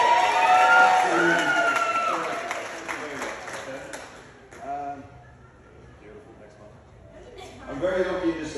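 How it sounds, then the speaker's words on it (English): Guests at a wedding celebration clap and whoop for someone standing up. Mixed voices and cheers ride over the clapping, which fades after a few seconds into quieter murmuring, then a short burst of voices returns. "Give her a round of applause."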